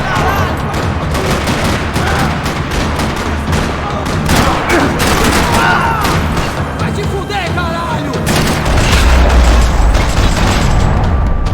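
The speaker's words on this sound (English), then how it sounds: "Another parking lot rattling with gunfire." Gunfire in the video game Max Payne 3 in a parking lot: dense, loud bursts of shots and booms rattling continuously alongside game music and effects.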